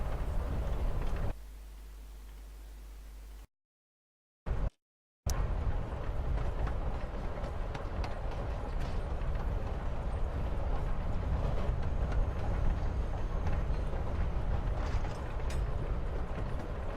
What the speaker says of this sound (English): You're on a freaking train with Rachel freaking Amber.